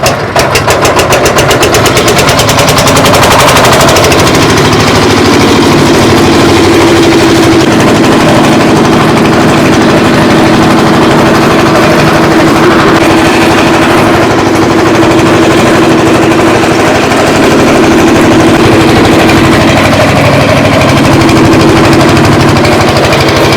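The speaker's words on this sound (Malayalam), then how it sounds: "1 ബാഗ് വിത്തൗട്ട് ടോപ്പർ ആണ്, 6 HP കിർലോസ്കർ ഡീസൽ എഞ്ചിൻ ആണ്." A 6 HP Kirloskar diesel engine on a one-bag machine without topper runs loud and close, a steady rapid chugging knock throughout with no pauses.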